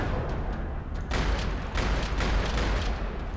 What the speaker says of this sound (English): Parking lot rattling with gunfire.